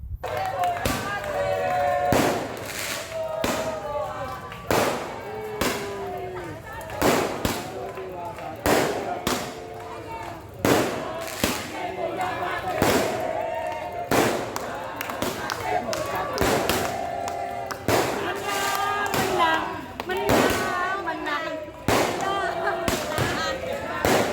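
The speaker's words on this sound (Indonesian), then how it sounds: "ini dia video perayaan kemenangan dengan pesta kembang api" Rapid bursts of fireworks at a victory celebration crack and bang repeatedly over a noisy crowd, with people talking and cheering throughout.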